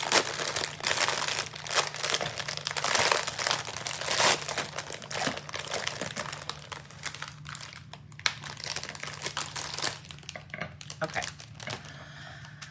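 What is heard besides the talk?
crinkly plastic packaging being crumpled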